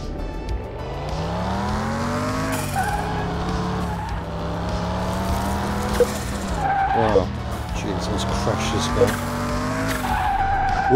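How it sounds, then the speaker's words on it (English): Tires screech and skid repeatedly through a handbrake turn in the video game Car Mechanic Simulator 2021, loud squeals layered over a revving engine whose pitch rises and falls. "Whoops, handbrake turn."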